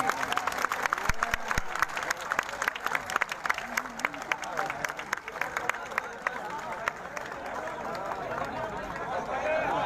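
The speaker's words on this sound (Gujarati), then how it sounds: "સાહેબનું સ્વાગત થાય એટલે તાળીઓના ગગડાટ હોવા જોઈએ" A crowd at a political rally in Banaskantha claps in dense, sustained applause mixed with crowd hubbub and rising slightly toward the end.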